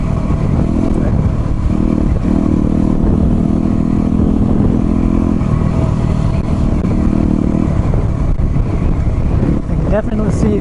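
A WR dirt bike rides off-road on a New Mexico backcountry trail, its engine droning and revving steadily and close up under wind rush and rattling, with a rider's voice talking over it.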